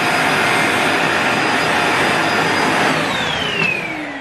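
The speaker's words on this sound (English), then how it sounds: "My housemate has taken to just using it handheld and hoovering like this." Beldray 2 in 1 stick vacuum cleaner used handheld, a loud, steady high whine with a dip in pitch near the end as it works.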